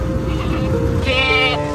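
A goat bleats once, a short wavering cry rising clearly over a steady background of crowd noise and low rumble at an outdoor Eid livestock setting.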